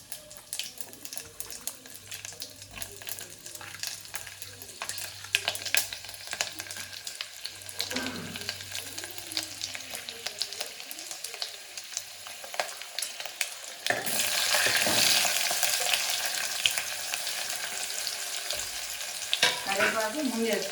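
Onion, garlic, dried red chillies and curry leaves frying in hot oil, a steady close sizzle that swells sharply louder partway through as more goes into the pan, with faint clinks and no talking.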